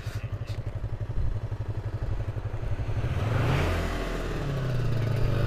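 A car passes on a dark road at night: a low engine rumble swells and its pitch shifts upward as it draws near and goes by, over a steady rhythmic clatter from the recording vehicle.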